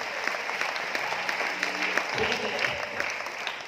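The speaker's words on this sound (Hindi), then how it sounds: "एक बार ताली जोरदार वाली बजाय सर" An audience at a business seminar in Aurangabad claps together, a steady run of applause with a few sharper claps standing out, while a voice speaks briefly over it.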